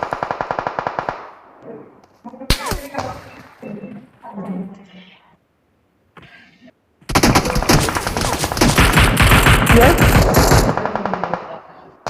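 Automatic gunfire in the video game PUBG, loud rapid bursts at the start, a few scattered shots, then a long sustained volley of fire near the end.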